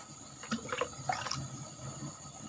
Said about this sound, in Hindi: अब इसमें मैं 3 पाव पानी डालूँगा